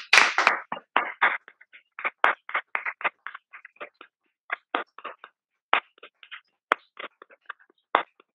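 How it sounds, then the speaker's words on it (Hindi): An audience at a company training event claps in scattered, uneven bursts for about eight seconds, moderately loud and close, with no talking. "तो अब एक बार जोरदार तालियां सभी अपलाइंस के लिए"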